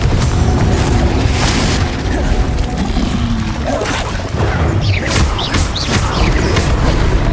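A Confringo blasting spell explodes in Hogwarts Legacy gameplay. Loud booming blasts and crashing bursts roll over each other, then give way to scattered sharp crackles and debris-like pops.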